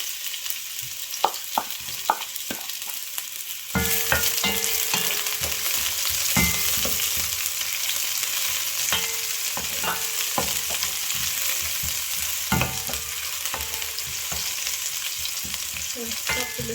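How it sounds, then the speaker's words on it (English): Onions fry in a little oil in a pot, a steady close sizzle that jumps louder after a few seconds, with occasional stirring clicks and scrapes. "So now I'm gonna start frying. I'll start with the onions."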